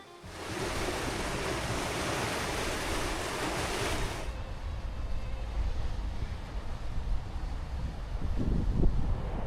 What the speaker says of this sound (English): We've got the paddles open on all the locks that have come up to let the water down, and it's flowing down